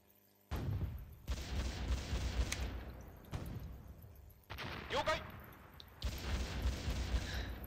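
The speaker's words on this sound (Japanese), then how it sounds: "矢作がいきなり敵の砲撃食らってるな" Naval shelling in the Japanese naval war game Teitoku no Ketsudan 4 around the Yamato sortie and the cruiser Yahagi: repeated heavy booming salvos with rumbling tails in distinct bursts, while a voice talks between them.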